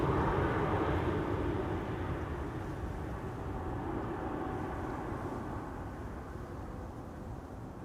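A KLM Cargo Boeing 747 departs Amsterdam Schiphol Airport as a faint, distant jet roar, broad and steady, slowly fading as it moves away.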